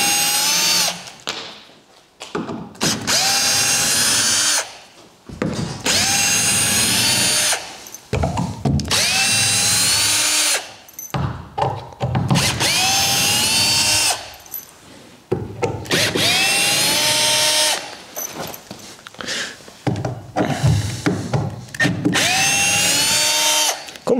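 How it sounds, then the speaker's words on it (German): Cordless drill driving screws on a Ducati Panigale V4 motorcycle model, loud whining bursts of several seconds each separated by short pauses, repeated about five times close to the microphone. "jetzt schraube ich immer rum, jetzt wird es ein bisschen laut auf meinem Mikro"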